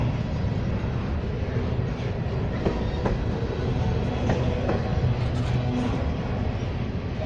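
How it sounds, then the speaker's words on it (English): A CSX Q410 freight train hauling waste-management cars passes Landenburg junction, with a steady, moderately distant rumble and faint wheel squeals and clicks throughout and no talk. "here's waste management on Q410"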